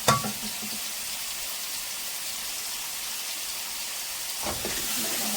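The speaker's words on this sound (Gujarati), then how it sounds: "જો આપણે જીરું આવી ગયું છે તો ડુંગળી ગરમ કરવા નાખી દીધી" Onions drop into hot oil with cumin seeds and sizzle in a steady, loud hiss like rain, with a sharp splash at the start and a stirring scrape near the end.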